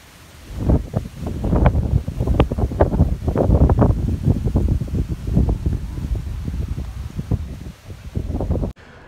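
Strong wind at an Egyptian beach resort, buffeting the microphone in loud, irregular gusts that roar and thump continuously for several seconds before cutting off.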